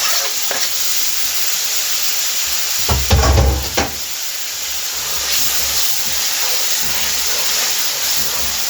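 Chopped tomatoes drop into a pan of sizzling dhaba-style chicken curry, a loud steady hiss and fry that swells with a brief burst of stirring and clatter midway, with no talking.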